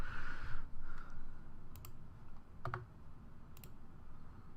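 Scattered clicks from a computer keyboard, a few isolated keystrokes spread over several seconds, faint and close against a low steady background hum.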